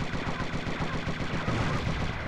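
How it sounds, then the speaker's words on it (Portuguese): Dense, continuous rapid gunfire hits walls in the video game Twisted Metal 4, rattling nonstop, loud and harsh, with impacts blending into a constant barrage. "eu tô que nem um doido aqui dando tiro nas paredes"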